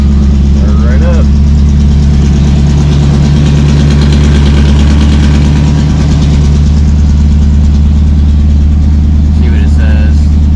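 A 1965 Ford Mustang Fastback engine runs loud and close at a steady, lumpy idle throughout, with faint voices over the rumble.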